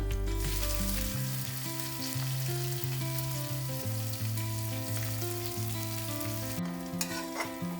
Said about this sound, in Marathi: यात आता आपण कांदा घालूया.